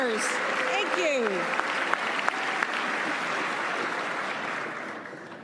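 A large audience at a state address breaks into sustained, dense applause and cheering that holds steady throughout before starting to fade at the end, with a few whistles near the start.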